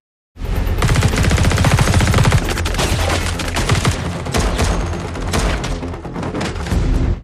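Dense, loud gunfire from a movie shootout, with rapid automatic bursts and heavy booms packed together almost without pause throughout, and no talking.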